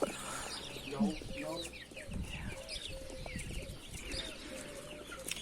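Small broiler chicks peep and cheep in high, rapid chirps amid clucking fowl, with people talking over them throughout.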